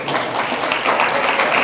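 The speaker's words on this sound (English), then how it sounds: "Can we have some applause?" An audience at a college awards ceremony claps briefly but fully for a company representative, a short burst of dense applause from a crowd.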